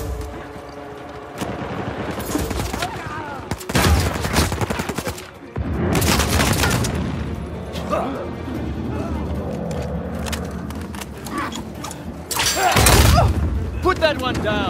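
Gunfire in Uncharted 4 multiplayer: loud bursts of rapid shots and booming impacts come and go across the clip, mixed with game effects and occasional talk.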